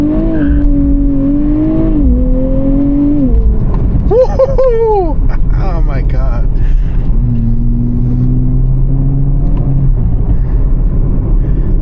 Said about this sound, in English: You hear those burbles.